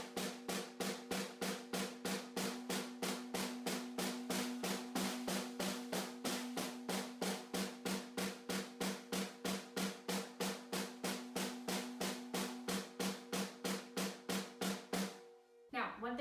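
A snare drum plays a beginner right-left sticking exercise as a long, even run of sharp, evenly spaced strokes, about fifty hits at a steady tempo, close and clear, alone.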